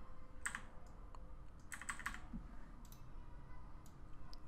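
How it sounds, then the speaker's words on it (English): Arrow keys tapped on a computer keyboard during animation work, a few scattered clicks and a short cluster of presses, close but quiet over a steady low background hum. "I'll use my arrow keys just to be a bit more precise."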